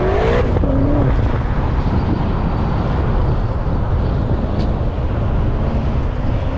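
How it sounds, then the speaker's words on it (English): A 680 bhp Stage 2 BMW M5 doing a burnout, a loud heavy engine roar with rumbling low-end drone and tyre noise, sustained and close for the whole stretch. "you'll see some smoking from Cam with his tyre"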